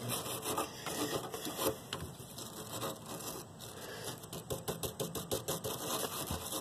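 A wire brush scrubs the orifice of a gas burner, producing a steady, close, dry rasping with brisk back-and-forth strokes that grow more clipped and rhythmic toward the end.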